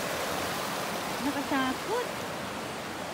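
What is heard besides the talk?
river flowing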